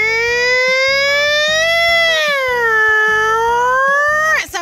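A voice imitates a wailing fire truck siren, a loud sustained tone sliding slowly up and down, ending with a sudden downward swoop.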